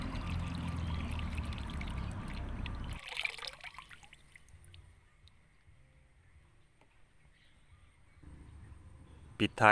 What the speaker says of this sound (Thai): ต่อด้วย EM 1ลิตร เทลงไปให้หมดเลยครับ